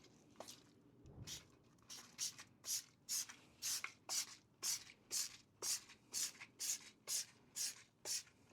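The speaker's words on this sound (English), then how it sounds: "I'm gonna foam the tires and spray the wheels." A trigger sprayer fires about a dozen quick, crisp spritzes of cleaner onto car wheels in a steady rhythm, close and clear, with a faint shuffle before the spraying starts.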